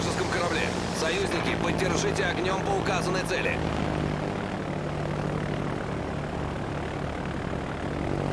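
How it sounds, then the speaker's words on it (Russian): In World of Warships, a carrier fighter aircraft's engine drones loudly and continuously with a propeller buzz, while radio-style voice chatter talks over the first few seconds. "Истребитель взлет произвел."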